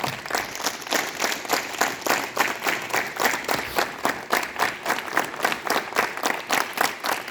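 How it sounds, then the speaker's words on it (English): Students at a school assembly clap together in a steady, rhythmic unison beat, a crowd of hands striking in time at moderate distance, continuing evenly throughout without talk. "Now clap together."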